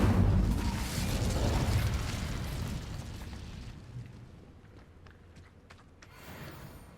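An Incendio fire spell blasts in Hogwarts Legacy: a loud, roaring burst at the start fades into crackling and scattered pops, with a smaller flare near the end.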